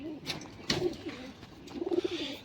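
Pigeons cooing nearby in soft, low, throaty bursts, a couple of calls separated by short pauses, with faint rustling.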